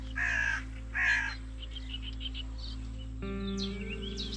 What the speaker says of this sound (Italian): Corvi.